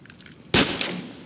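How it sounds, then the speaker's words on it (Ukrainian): A single sharp, loud gunshot in GTA San Andreas bursts out after a brief quiet stretch, with a short echoing tail. "Ей, хто стріляв у мене?"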